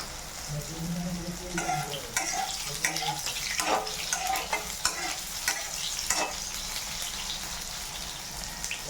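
Food frying in a pan gives off a continuous sizzle, broken by repeated scraping and clinking from stirring with a spatula, fairly close and moderately loud.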